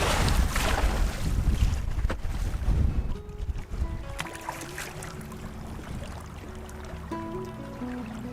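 Canoe paddled against a strong wind on a lake in late fall, with loud wind buffeting and water rush for the first few seconds, then easing to quieter lapping water and faint tonal sounds.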